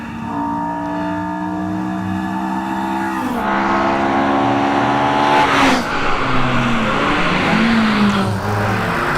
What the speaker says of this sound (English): Jeff Varden's Datsun going up that hill now